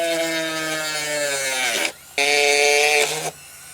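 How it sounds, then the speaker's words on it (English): A power tool cuts a slot for the nose gear in an 87-inch Legend Hobby Cherokee model airplane. It gives a loud, close, steady whine in two bursts separated by a short pause. "I'll also need to cut a slot for the nose gear."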